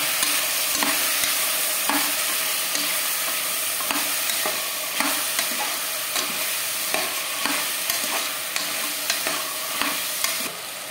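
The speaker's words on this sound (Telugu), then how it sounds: "ఇప్పుడు బఠానీలు కూడా బాగా ఫ్రై అయిపోయి దీనిలో చిన్న ముక్కలుగా తరిగి పెట్టుకున్న ఆలూ పీసెస్ని అయితే వేసుకొని వీటిని కూడా బాగా ఫ్రై చేసుకోవాలి." Potato pieces and peas frying in a hot pan while being stirred, with a steady sizzle and repeated scraping stirs throughout.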